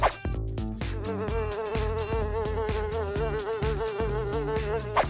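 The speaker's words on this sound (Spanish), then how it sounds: "Moscas y más moscas que hay hoy en el set." Flies buzz loudly and steadily on a studio set, a continuous wavering drone over a rhythmic music bed for several seconds.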